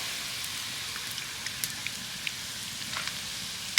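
Steady, close sizzle of ingredients frying in hot oil for semolina pulao, a continuous crackling hiss dotted with small pops and no talk.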